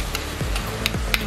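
A spoon stirs sopas pasta in a pot, giving a few soft scraping strokes over a faint steady sizzle.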